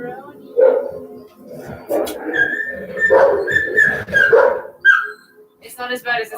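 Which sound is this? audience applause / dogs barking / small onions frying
dogs barking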